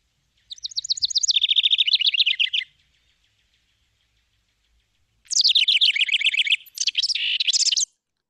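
Recorded wild bird calls with a scolding tone, Lake Tahoe area: two loud, rapid, buzzy chattering phrases, the second longer and broken into two parts, separated by a few seconds of silence.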